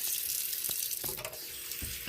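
Water runs briefly from a kitchen tap into a small amount of cornstarch, a soft steady splashing close by.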